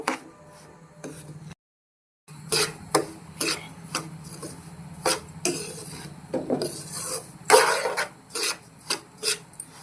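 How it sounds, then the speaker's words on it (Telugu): Semolina (rava) dry-roasting in a pan, stirred with a spoon in repeated short scraping and rasping strokes, a close, fairly steady rhythm with one brief silent gap. "ఇలాగే దగ్గరుండి ఫ్రై చేసుకోవాలండి, లేకపోతే రవ్వ మాడిపోతుంది."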